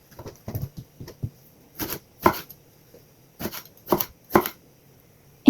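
A large eggplant sliced with a knife on a board for pork sinigang, quick clusters of crisp taps and thuds in uneven bursts with short gaps between, close and clear with no talk.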